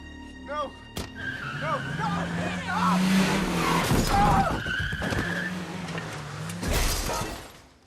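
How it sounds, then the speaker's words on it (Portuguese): A car crash from the 2012 film Maniac: a sudden impact with shattering and crunching debris, tires and engine noise around it, loud and dense, with a second burst near the end and voices mixed in. "acaba batendo o carro e morrendo instantaneamente"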